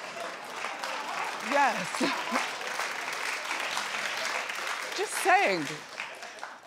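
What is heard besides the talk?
studio audience low clap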